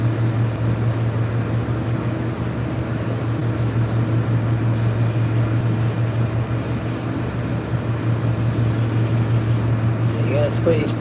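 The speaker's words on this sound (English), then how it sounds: "You gotta spray these plants really good" A sprayer mists plants in a continuous loud hiss that lasts throughout, with a steady low hum beneath it and a few brief breaks in the spray.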